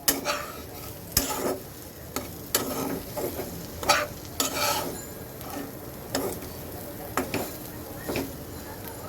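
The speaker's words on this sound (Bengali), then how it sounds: "এবার এটাকে সুন্দর করে কষাবো মিনিমাম তিন থেকে চার মিনিট এটাকে কষাবো" Soybean chunks stir-fried in a pan, with a spatula scraping and knocking against the metal in irregular bursts over a steady background sizzle, close and moderately loud, without talk.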